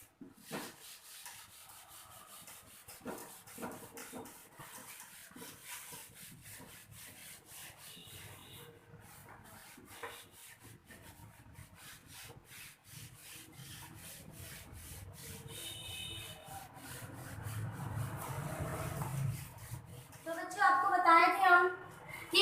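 A board eraser rubs writing off a classroom board in steady back-and-forth strokes, close and continuous, growing louder and harsher toward the end, with no talk over it.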